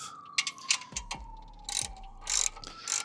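A socket wrench ratchets on a bolt of a Cravot CyberRack E2 Plus e-bike rack, producing close, irregular bursts of rapid clicking with some metallic clatter and no talking.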